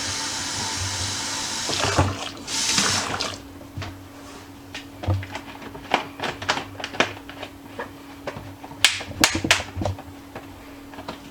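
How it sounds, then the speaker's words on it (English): Tap water runs and splashes into a container of blackberries and strawberries for homemade wine, a short gush early on, then scattered drips, sloshes and clinks against a low steady hum. "I want to put a little water in here and get all my juice."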